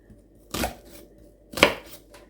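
A knife slices through an onion on a cutting board: two crisp, close chops about a second apart, each a short sharp burst, with quiet pauses around them and no voices.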